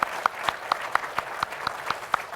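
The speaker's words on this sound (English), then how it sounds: "That's an applause line right there." A small audience at a discussion event with a governor gives a short burst of applause, with a few distinct claps standing out at an even rhythm amid a light patter of hands.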